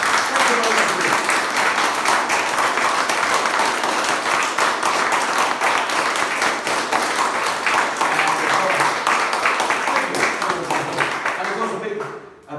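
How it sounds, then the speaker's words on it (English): A theatre audience at a Showtown performance breaks into sustained, loud applause for the artists, a dense wash of clapping with scattered cheers that holds steady before fading out at the end. "So if you'd like to applaud these artists"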